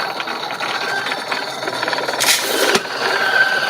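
An electric coffee grinder grinding 24 grams of coffee beans, giving a steady, gritty mechanical whir with a brief louder surge near the end.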